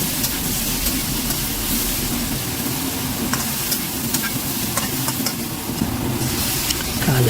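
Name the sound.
stir-frying yam and asparagus with garlic and ginger in a wok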